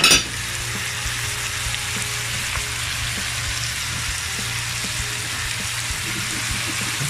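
Shrimp, squid and liver hitting a hot pan for lomi, a sharp burst at the start settling into a steady, close, loud sizzle with light stirring throughout.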